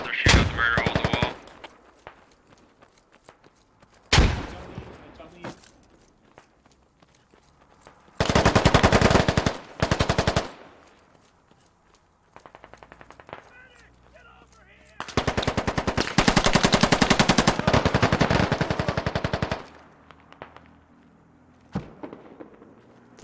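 Automatic weapon fire in the tactical shooter game Squad during an assault on a town, with loud, sustained rapid bursts broken by quieter gaps and scattered single shots.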